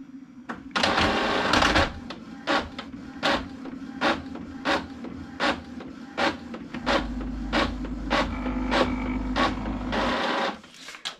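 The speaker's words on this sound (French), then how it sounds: "Et j'imprime." Inkjet printer feeding and printing a page for a bullet journal, a run of rhythmic mechanical clicks and short whirring passes of the print head repeating steadily, close and fairly loud, with a low motor hum building near the end.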